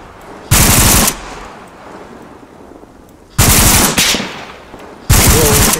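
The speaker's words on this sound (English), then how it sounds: "we're taking return fire right now" Gunfire in Arma 3 with JSRS3 Dragonfyre sound, three loud sustained bursts of automatic fire separated by quieter pauses.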